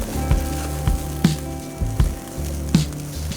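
Fifteen grams of finely cut mushrooms sizzle in a hot pan, a steady close frying hiss broken by several sharp stirring knocks.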